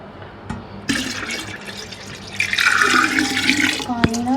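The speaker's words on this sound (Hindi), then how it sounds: "पानी खत्म हो गया था तो अभी वही भर रही हूँ।" Water runs from a tap into a container in a home kitchen, a steady splashing stream whose pitch rises as the container fills, with a few clunks and someone speaking over it.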